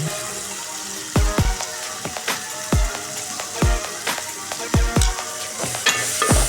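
Onion, tomato and chili-coriander powder sauté in a pan for egg gravy, a soft steady sizzle broken by a dozen sharp spoon scrapes and knocks in an uneven rhythm, close by with no voices.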